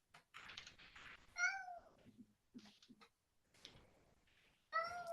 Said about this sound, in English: wailing cat on the shelves behind me.